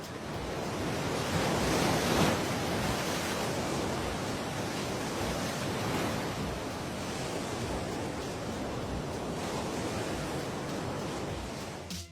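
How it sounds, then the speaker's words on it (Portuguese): Large ocean waves break at Jaws on the north shore of Maui beneath towering rocks, a loud continuous roar of surf and wind with no pauses. "As ondas conhecidas como Jaws estão na costa norte da ilha de Maui, debaixo de impressionantes rochas."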